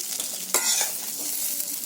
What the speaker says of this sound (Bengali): কুঁদলিটা এদিকে আমার ভাজা হয়ে গেছে এটাকে আমি তুলে নিচ্ছি